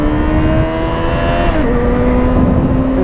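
Yamaha XJ6 motorcycle pulling hard to overtake, a loud, steady engine whine that holds its pitch, then drops slightly as it shifts and continues, with heavy wind roar around it.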